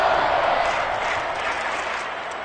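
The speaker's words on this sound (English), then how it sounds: "The crowd getting into it as we come up on a big 3rd down" Stadium crowd in a Madden 23 football video game, Lions vs Seahawks, building up ahead of a big third down, a dense steady roar of cheering and applause, loud and continuous throughout.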